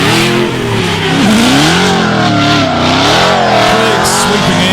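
A drift car at Meremere Drift Park in New Zealand revs hard and loud, its engine note rising and wavering while tyres squeal and smoke up, close and dominant throughout.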